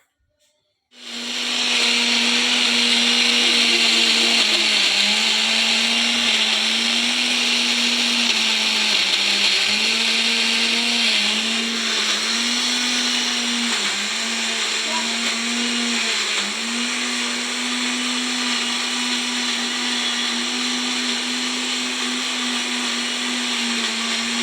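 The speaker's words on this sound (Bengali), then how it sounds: "তখন ভয়েস দিতে পারিনি, কেন মিক্সি চলছিল বলে।" A kitchen mixer grinder runs steadily, grinding green peas for kochuri: a loud, continuous whirring motor hum with a high-pitched whine, starting abruptly and holding for over twenty seconds with slight load fluctuations.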